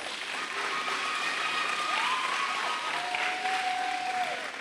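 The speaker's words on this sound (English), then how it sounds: "Doesn't she deserve a better round of applause?" A crowd applauds at a Year 6 primary school graduation ceremony in 2022, with sustained even clapping and faint tonal sounds drifting over it.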